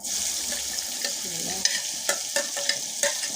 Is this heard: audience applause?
no